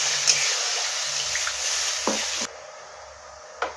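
Fried spice paste for a snakehead fish curry hisses and sputters in a pan as water is poured in, stirring scrapes over the sizzle, then the sound drops sharply quieter, with a brief splash near the end.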